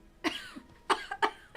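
Three sharp, close coughs with brief throat clearing between them, spaced in quick bursts over a second and a half.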